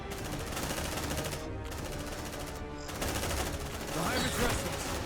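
Rapid automatic gunfire in the video game Aliens: Dark Descent, dense continuous bursts with two brief pauses, fairly loud and close.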